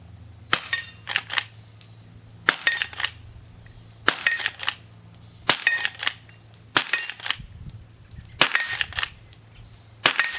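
A Henry H001 lever-action rifle fires Aguila ammunition at a steel target outdoors. Sharp shots come roughly every one and a half to two seconds, each followed by a ringing metallic ping from the steel and clacks from the lever cycling.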